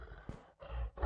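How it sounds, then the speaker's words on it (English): A time-stretched lion growl sound effect rumbles in two or three drawn-out, low roaring bursts with brief gaps between them, heavy in the low end and heard alone. "Then I have the lion growl."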